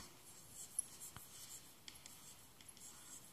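Faint scratchy strokes and light taps of writing on a board, quiet and intermittent in a still room.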